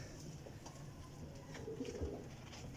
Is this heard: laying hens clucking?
no